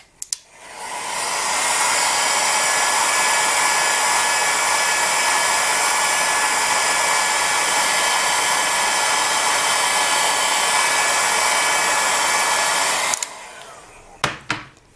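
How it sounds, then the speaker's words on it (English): A hairdryer on a low heat setting gently warms polymer clay, its steady airy whir running continuously and evenly for most of the stretch before clicking off near the end. "you can also have a heat gun or a hairdryer, and just set that onto a low heat setting"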